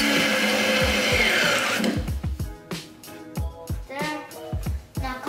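A power drill drives screws into a wooden dog house, giving a steady whir at first and then a run of short bursts and stops as each screw bites in, close up with no talk.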